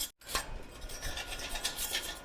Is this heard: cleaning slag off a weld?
yes